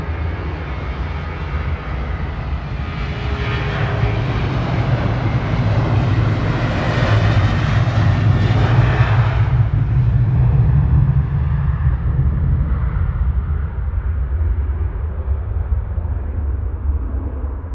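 A Jet2 aircraft taxiing back to the gate at Manchester Airport produces a loud, steady jet engine roar with a low rumble, swelling in the middle and then easing slightly, with no talk.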